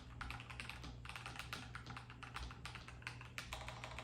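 A Nuphy Halo75 mechanical keyboard being typed on at a steady, brisk pace, with dense overlapping key clacks close up and no voices.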